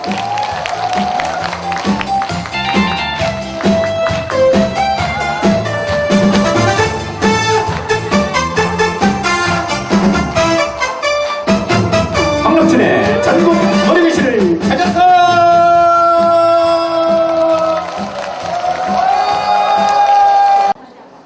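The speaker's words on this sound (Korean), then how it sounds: "여러분 박수와 함성!" An audience at a Korean national singing-class concert applauds and cheers, a dense crowd noise mixed with loud stage music and an amplified announcer's voice.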